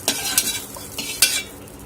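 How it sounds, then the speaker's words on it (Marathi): Large chopped tomato pieces roast in hot oil in a pan for a spicy thecha, heard up close as soft sizzling with a few quick scraping spatula strokes. "एक टोमॅटो आणि त्यालाही छान असं तेलामध्ये भाजून घेऊया"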